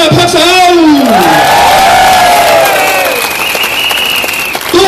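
A crowd at an outdoor political rally in Melaka claps loudly and steadily, with raised voices and cheering carrying over the applause throughout.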